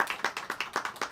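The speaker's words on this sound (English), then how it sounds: "Clap it up, y'all." A small audience claps at a live business event, a brief, fairly quiet burst of individual hand claps in an uneven rhythm.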